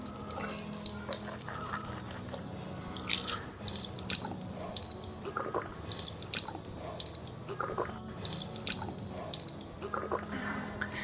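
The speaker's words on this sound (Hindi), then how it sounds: "3 मरतबा कुल्ली करेंगे।" Water splashing and dripping close by as a person rinses the mouth during ablution, with irregular bursts of swishing and trickling over a quiet running tap.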